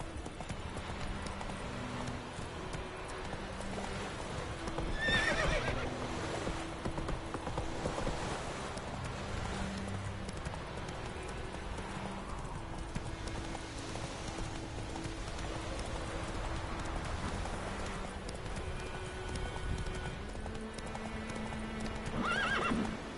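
Horse hooves clip-clop steadily at a gallop through Witcher 3's game world, with a few neighs and whinnies over continuous game music and light rain.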